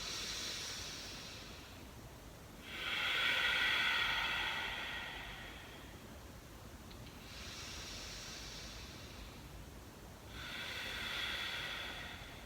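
Slow, deep yoga breaths, close and airy, alternating long inhales and long exhales in an unhurried rhythm, with about three full breath cycles and no talking.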